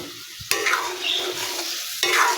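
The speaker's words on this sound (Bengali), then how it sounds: "সবগুলো মশলা একত্রে মিক্স করে আমি কষিয়ে নিচ্ছি।" Spices sizzle in a pan with cauliflower and potato as a utensil stirs them, sharp scraping strokes at intervals over a steady close frying hiss.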